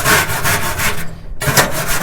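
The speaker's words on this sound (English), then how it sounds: "we're just going to scrub down the burner box" Scrubbing ash out of the burner box inside a gas grill, a loud close rasping back-and-forth scrub in steady strokes with a brief pause mid-way.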